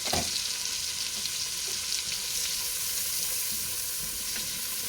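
Celery, onions and bacon fry and sizzle in a soup pot while being stirred, a steady close crackle with occasional scrapes of the spoon, with no voices.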